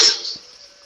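A single short, harsh cough from a person with flu, loud and close, fading quickly into a faint tail.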